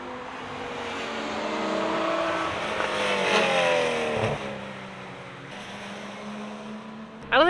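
A BMW M4 GTS drives on a track during a track-day session, its engine droning steadily and rising in pitch as it accelerates, heard close and without talk, ending in a sudden loud burst.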